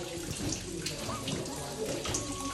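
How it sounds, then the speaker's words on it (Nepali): Water falls and splashes nearby in a steady, rushing stream outdoors on a cold family outing, with people's voices faintly mixed in. "यहाँ चाहिँ यस्तो पानी झर्दैछ"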